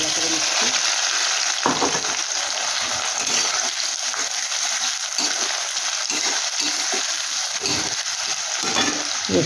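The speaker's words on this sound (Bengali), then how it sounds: "পেঁয়াজটা একটু ভাজা ভাজা করে নিচ্ছি।" Onions frying in oil in a home kitchen, a steady loud sizzle with occasional stirring scrapes and a few faint background voices.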